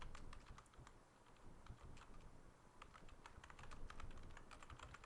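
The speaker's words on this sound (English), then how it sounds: "Here we'll type a summary of the prospective work." Fingers tap quickly and lightly on a computer keyboard in an irregular, continuous stream of soft clicks at low volume, with no voices.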